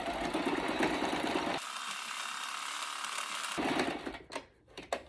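Sewing machine stitching a shalwar, a dense rapid mechanical buzz running steadily for several seconds before trailing off into a few clicks, close and fairly loud.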